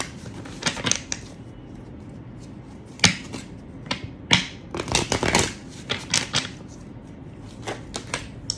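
Tarot cards being shuffled and handled, with a series of crisp riffling bursts and soft slaps scattered across the stretch, moderately close and fairly quiet over a faint room hiss, with no talking.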